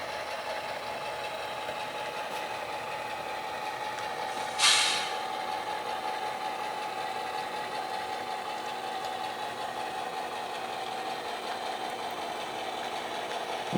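Switcher locomotive engine idling and rumbling steadily while backing up during local switching operations, a constant low drone with one brief hiss of air near the five-second mark.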